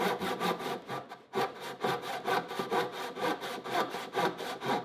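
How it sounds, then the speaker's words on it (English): An old rusty handsaw cuts through wood in quick, regular rasping strokes, a loud close back-and-forth rhythm with one brief pause, and no voices. "I'm going to have to cut it with this old rusty saw"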